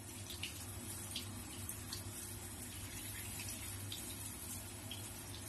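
Water falls steadily onto waterproof landscape lights in a spray test, a constant hiss with scattered spatters over a low mechanical hum, faint but unbroken, with no voices.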